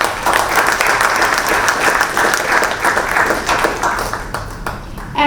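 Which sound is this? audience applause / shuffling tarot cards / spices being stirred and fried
audience applause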